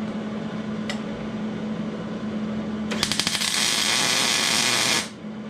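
Tack welding on a Jeep JK rear track bar mount during a one-ton axle swap: a faint hum, a tiny pop, then a loud crackling weld burst lasting about two seconds before cutting off.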